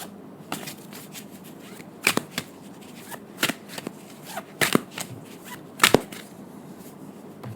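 A deck of playing cards is shuffled in a string of short, crisp riffling bursts, close and fairly quiet, spaced irregularly with soft pauses between them.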